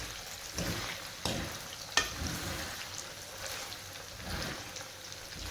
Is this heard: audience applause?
no